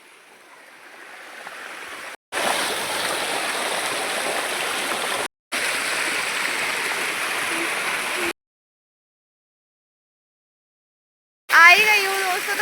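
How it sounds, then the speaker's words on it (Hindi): Small mountain waterfalls and a stream rush with a steady broadband roar in three long bursts separated by brief gaps, then a silent stretch, followed by a voice talking over the water at the end. "ये देखो वाटरफॉल, ये देखो एक वाटरफॉल"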